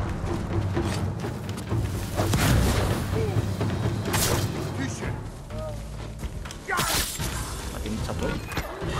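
Bomb blasts in the samurai action game Ghost of Tsushima, several heavy booms and crashes bursting through the mix at irregular intervals under continuous excited talking.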